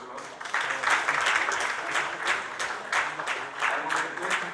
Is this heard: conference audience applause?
yes